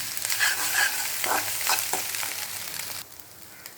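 Egg masala podimas of scrambled egg and spices frying in a pan, with a spatula stirring and scraping in several strokes over a steady sizzle that drops to a quieter hiss near the end.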